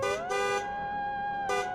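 A car horn honks in two short toots, the second blast longer and trailing, sounding close and clear as a sound effect in a horror story, with no voices.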